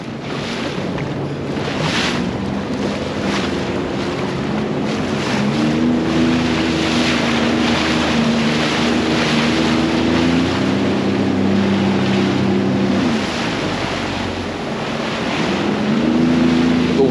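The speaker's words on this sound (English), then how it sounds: "Wake being churned up behind me" Churning wake water rushes continuously behind a ship near Buffalo, with a deep engine drone and buffeting wind noise throughout, no voices.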